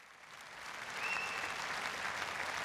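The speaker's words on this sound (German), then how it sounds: "So applause." A crowd applauds at the FC Bayern Munich annual general meeting, steady clapping that swells after the first second and holds, heard from a distance and fairly quiet.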